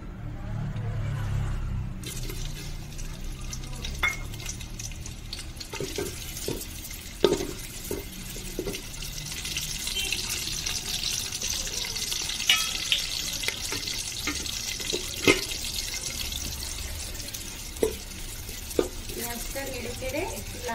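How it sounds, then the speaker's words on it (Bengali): Onions frying in hot oil for a chana dal khichda, a steady close sizzle with scattered pops and stirring clinks running for about twenty seconds without speech. "তেলটা গরম হয়ে এসেছে, এবার আমি পেঁয়াজটা দিয়ে দেব।"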